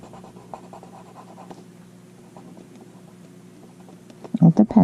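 A colored pencil scratches softly across paper in short back-and-forth coloring strokes, faint and close, ending with a few louder knocks.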